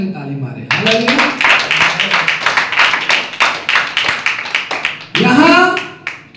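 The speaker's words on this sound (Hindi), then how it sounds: "जोर से परमेश्वर की महिमा के लिए ताली मारे" A church congregation at a Sunday service claps loudly and in steady rhythm for God's glory, a run of close, even hand claps with a preacher's voice speaking just before and after.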